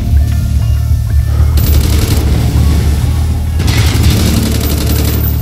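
Loud, sustained machine-gun fire in Call of Duty: Black Ops, two long rattling bursts over a constant low rumble of battle noise, with more shooting in between.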